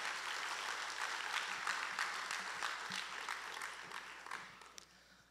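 Church congregation gives a round of applause, a fairly quiet, distant wash of many hands clapping that holds steady and then thins out toward the end.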